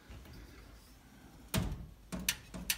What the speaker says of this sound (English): Front door.